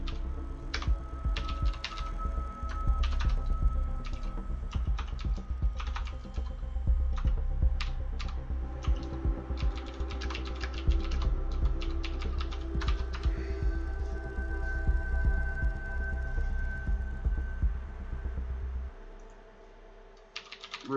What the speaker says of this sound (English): Let's just type hello.